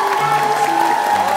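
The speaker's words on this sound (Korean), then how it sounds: "큰 박수로 환영해 주시기 바라겠습니다!" A studio audience on a Korean television variety show claps to welcome a guest onstage, a short dense burst of applause with a host's voice carrying over it.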